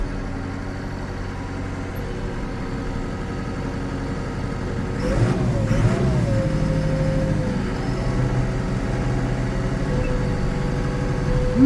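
A McCormick CX105 tractor engine runs steadily at idle with the PTO operating; engine note rises briefly near the middle, then settles back to a constant mid-low drone.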